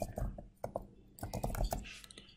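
Fingers tap out a quick, uneven burst of keystrokes on a computer keyboard, close and fairly quiet, pausing briefly then resuming with a denser run of clicks.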